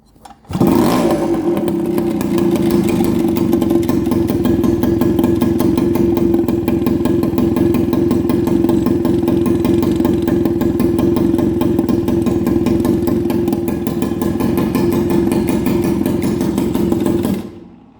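A moped engine starts and idles steadily up close, with a continuous rattling, clattering buzz throughout, then cuts off.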